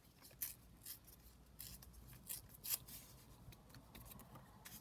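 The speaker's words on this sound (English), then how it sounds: "Or maybe if we tear along the top bit." A paper ticket has its top torn off as part of a handmade junk journal page, giving a few quick, close ripping bursts with soft rustles between them and no talking.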